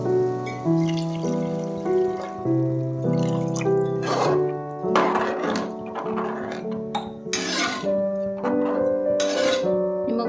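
Water is poured from a glass into a pressure cooker of rice for tomato bath, splashing in a few short bursts beneath steady, loud background music.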